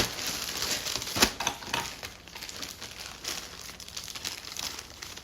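Plastic packaging crinkles and crackles close by as it is torn open, with a sharp rip early on followed by continuous rustling handling.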